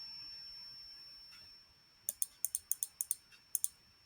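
A computer mouse clicks about nine times in a quick, uneven series while an order is modified on a stock-trading platform, sharp and close over a faint steady electronic whine after a quiet start.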